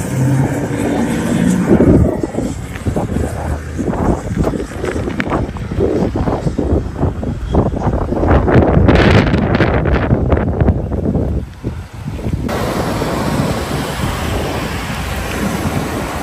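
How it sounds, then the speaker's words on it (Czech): Strong gale blowing outdoors, heavy buffeting gusts roaring across the microphone in loud surging waves, easing and returning over the span with no voices. "Je pěkná vichřice."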